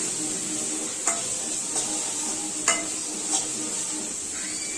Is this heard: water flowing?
no